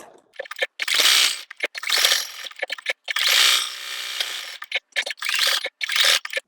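A sewing machine works through a quilt block in rapid bursts, a loud mechanical whirring rattle that starts and stops about every second, heard up close with no talking.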